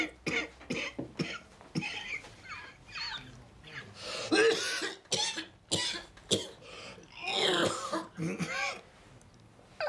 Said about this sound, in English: How long have you been coughing like this?